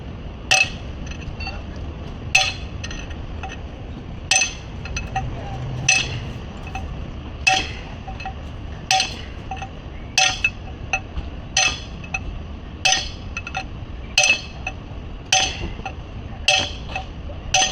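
A 4-pound hammer knocking out an old bearing race on inboard brakes, sharp metallic clinks struck one by one at an irregular pace, roughly every second, against a quiet workshop background.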